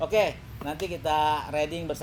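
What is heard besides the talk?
No everyday noises stand out.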